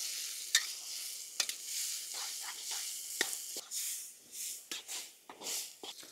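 Onion and tomato gravy masala with red chilli powder and turmeric sautéing in a pan, a soft steady sizzle broken by repeated scraping stirs of a spoon, close and fairly quiet.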